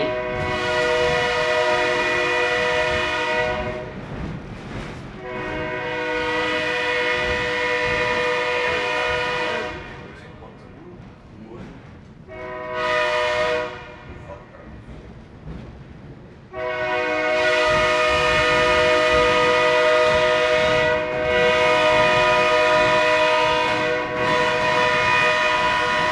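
A Lackawanna Railroad steam excursion train sounds its whistle and horn in long, loud, sustained blasts separated by brief pauses of rumbling running noise, with a final sequence of several blasts close and dominant.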